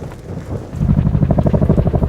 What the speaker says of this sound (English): The storm won't hold up the helicopter,